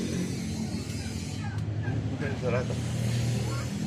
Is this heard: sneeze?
no